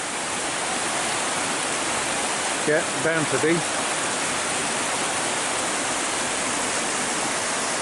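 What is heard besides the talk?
water rushing from a mill outflow into river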